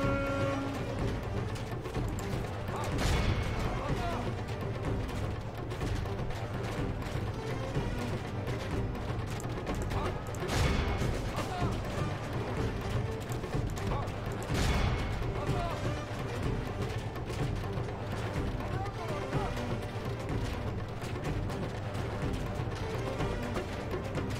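A Byzantine campaign battle in a strategy video game: a dense, steady din of massed combat with scattered distant gunshots and booms rising out of the continuous roar.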